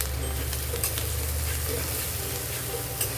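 Onions frying in a pan with salt while being stirred for a masala egg curry, a steady close sizzle with a low hum beneath it.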